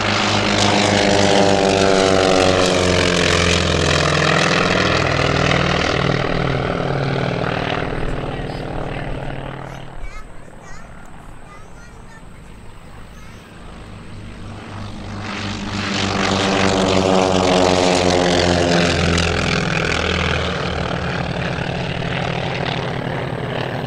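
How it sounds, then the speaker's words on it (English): Two North American T-28 propeller warbirds take off at the 2013 Lehigh Valley Airshow, their radial engines roaring loudly and close, fading briefly as the first passes before a second loud surge builds and holds steady. "A couple of our T-28s getting airborne."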